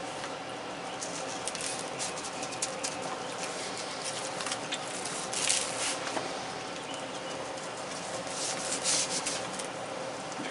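Hands rub Texas rib grind spice rub into a raw pork butt, a steady close-up scraping and patting texture with soft rustling bursts throughout, no talking.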